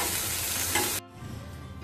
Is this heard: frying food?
yes